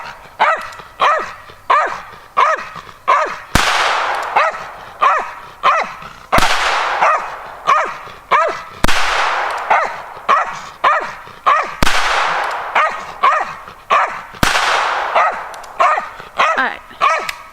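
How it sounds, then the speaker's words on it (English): A dog barks repeatedly and loudly close by in a home, sharp yips in quick bursts punctuated by a few louder single barks at regular intervals throughout. "She's barking at me. Why are you barking at me?"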